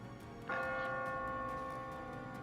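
A church bell rings out suddenly and loudly, its sustained tone humming steadily and decaying slowly, heard alone without speech.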